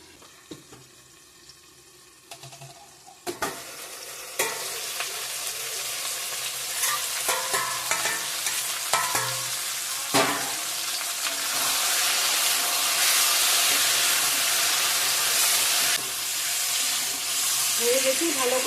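Chicken curry fries in a pan, its oily sizzle swelling from quiet to loud and steady while a spatula scrapes and clinks through the stirring.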